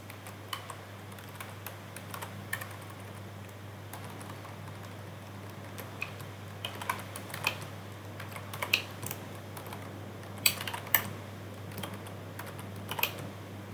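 Someone types Java code on a computer keyboard, producing quiet, irregular key clicks close by, with a few louder clusters and a faint steady hum underneath.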